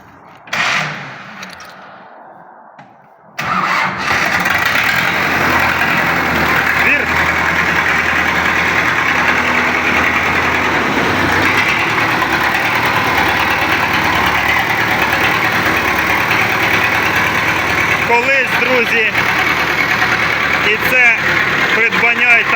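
After a brief start, a tractor engine settles into a loud, steady idle that rumbles continuously, close by, with a voice talking over it.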